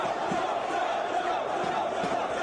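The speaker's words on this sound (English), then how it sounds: "I'm pretty sure they're just cheering for both teams" Wrestling crowd roaring and cheering in an arena, a sustained distant wall of voices with no break, fairly faint and even.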